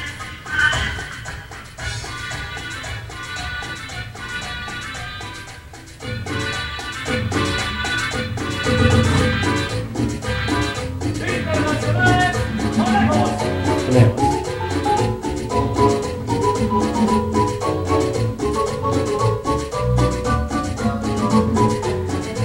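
A Guatemalan marimba orquesta plays a recording of popular music, with busy rapid mallet notes over a rhythm section. A brief quieter break early on gives way to a fuller, louder passage that continues steadily.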